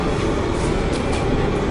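A subway train in a Korean action chase scene rushing past as a loud, dense, continuous rumble and roar of wheels and cars that fills the whole moment without letup, with no voices.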